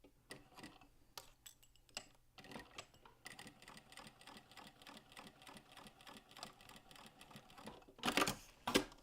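A sewing machine stitching a fabric seam runs in short bursts and then a steady rapid ticking run, quiet and close, with a couple of louder clunks near the end and no talk.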